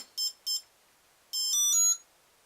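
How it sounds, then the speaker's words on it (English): A radio-controlled helicopter sounds its power-up initiating tones: two short electronic beeps, a pause, then a longer rising sequence of stepped tones, clear and close with no background noise. "Wait till you hear all your initiating beeps, and then it's ready to go."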